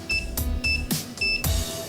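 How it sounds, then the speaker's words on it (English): K Tool XD circuit tester beeping as its probe touches a car battery terminal, three short steady electronic beeps in a row, each cut off by a click of contact, close and loud with no talking. "you can see it beeps in a red light right there."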